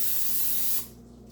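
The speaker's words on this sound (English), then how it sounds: "I spray it." A can of cooking spray hisses steadily into a glass baking pan at close range for under a second, then cuts off abruptly, leaving a low room hum.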